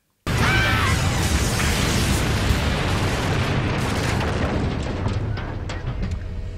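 A loud explosion in the film Groove Squad bursts in suddenly, followed by a long roaring rumble with crackling debris that slowly fades.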